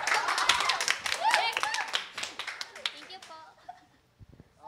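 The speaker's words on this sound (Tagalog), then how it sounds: "isang malakas na palakpak" Congregation clapping at a church midweek service, a burst of many hands with dense irregular claps and some voices, thinning out toward the end.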